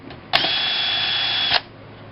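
A hand drill whirs steadily for just over a second while reaming out a hole, starting and stopping abruptly with a high, even motor whine, close and alone.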